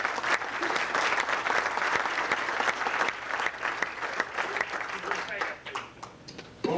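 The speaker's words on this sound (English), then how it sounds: "let's give him a big round of applause" An audience at a guard retirement ceremony breaks into sustained applause, steady dense clapping filling the room for several seconds before tapering off.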